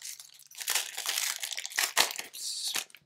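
Foil wrapper of a basketball trading card pack torn open and crumpled up close, a run of sharp crinkling and tearing bursts over about three seconds with no talk.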